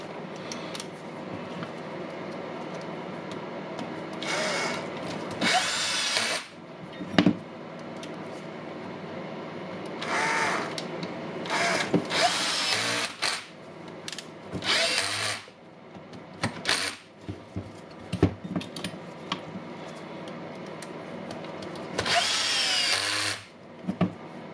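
A power drill undoes the housing screws of a Milwaukee M18 FMTIW2F12 mid impact wrench on a workbench, giving several separate high whirring runs of one to two seconds each between pauses filled with clicks and handling of tools and parts.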